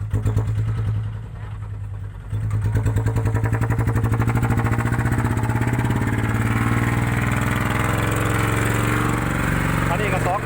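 A small Thai e-taen farm tractor engine runs loudly and steadily up close, a throbbing mid-pitched chug with a brief dip in intensity early on and someone talking over it.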